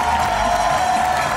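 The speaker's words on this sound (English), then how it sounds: "let's give them a big round of applause here" Crowd at the D23 Expo applauding and cheering a costumed cast, a dense wash of clapping and cheers at steady volume with a faint tone running underneath.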